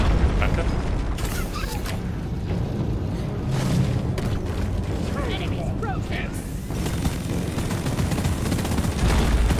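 Rapid gunfire and impact booms from the co-op mining shooter Deep Rock Galactic, dense and continuous over game noise, with players talking throughout.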